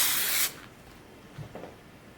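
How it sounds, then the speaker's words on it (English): A short hissing burst from a can of spray adhesive onto quilt batting, about half a second, followed by quiet rustling. "I'm going to spray the batting"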